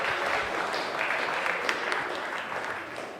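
Steady, dense applause from an audience at an evening business mixer celebrating Black Business Month in West Palm Beach, loud and continuous with a faint voice underneath.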